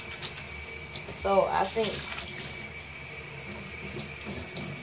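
Tap water running steadily in the background while hair is rinsed, a soft continuous splash with a brief louder gush, under someone talking.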